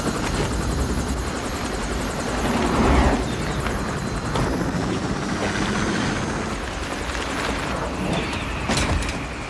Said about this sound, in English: Franz follows the train in a helicopter, presumably to pick Phelps up.